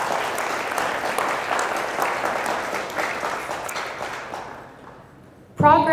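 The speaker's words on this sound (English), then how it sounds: "I just want you guys to give yourselves a round of applause here at UFV." Audience applause at a university nursing health fair, sustained clapping that gradually fades and thins out before a voice comes in near the end.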